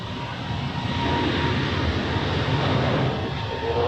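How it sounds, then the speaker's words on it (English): A British Airways airliner takes off at Zurich Airport, a steady, loud broadband engine roar holding constant and close throughout with no break. "And now, takeoff time for British Airways."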